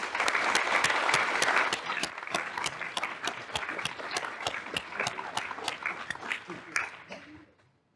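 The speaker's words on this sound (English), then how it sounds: "Can we please have another warm round of applause for Dr. Mosier, Dr. Tangeman, and their families." A crowd claps warmly for honorees and their families at a dormitory naming ceremony, with a dense burst of applause that thins into scattered claps and fades out near the end.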